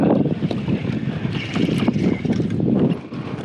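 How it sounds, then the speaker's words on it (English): Wind blows hard over a fishing boat, a loud rushing gust that buffets the microphone with rough, steady roaring and no other sounds. "this is going to be casting directly into the wind."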